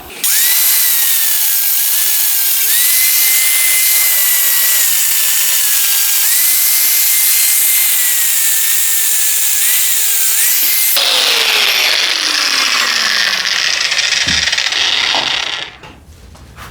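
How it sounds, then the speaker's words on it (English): An angle grinder cuts through a stuck, worn bolt on a go-kart, running as one loud, continuous whine with a shifting pitch for about fifteen seconds before it spins down and cuts off. "So we're gonna do what everybody does when they can't get a bolt off. We're gonna grind it off."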